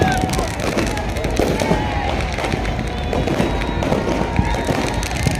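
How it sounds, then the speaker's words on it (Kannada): Fireworks and firecrackers set off from all sides during New Year celebrations at Colva Beach in Goa, a dense, continuous barrage of loud crackling and popping bursts with a constant crowd murmur underneath. "ನಾಲ್ಕು ಕಡೆಯಿಂದ ಕೂಡ ಪಟಾಕಿ ಆನ್ ಮಾಡ್ತಿದ್ದಾರೆ"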